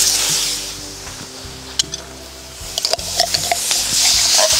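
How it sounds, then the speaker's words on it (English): Liquid from canned garbanzo beans draining at a campfire cooking spot, a steady wash of splashing and trickling with a few small clinks, loud and close. "So drain some of the garbanzo beans."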